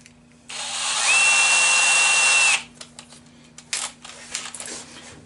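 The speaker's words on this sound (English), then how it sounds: "So I'm going to go ahead and drill those. I believe this is a 1/8 drill bit." A small 1/8 drill bit bores holes while repairing a Laguna lathe: a steady high power-drill whine runs about two seconds, then stops, followed by faint clicks and handling noises.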